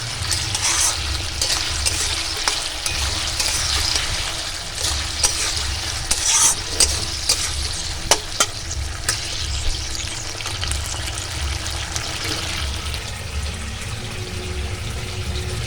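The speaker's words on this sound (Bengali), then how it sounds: "সেখানে নেড়ে একটু জল দিয়ে দেবো" Chilli chicken is stirred in a sizzling frying pan on a home stove, with a steady loud fry hiss, repeated scrapes and clinks of the spatula, and a splash as water is added.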